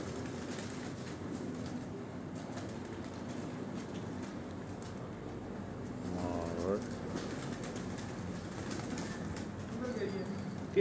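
Pigeons coo softly on an evening rooftop in Rawat, Chak Beli Road, Rawalpindi, faint and distant beneath a steady outdoor rumble, with a brief flutter near the middle.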